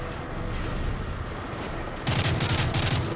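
Gunfire in a Call of Duty: Modern Warfare 3 campaign mission, a dense crackle of distant shots that turns into a loud, rapid automatic burst for the final second.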